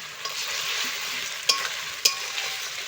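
Fried potatoes being stir-fried with spice paste in a pan for a rustic Bengali shol fish curry, giving a steady close sizzle with a couple of sharp scraping knocks of the spoon against the pan.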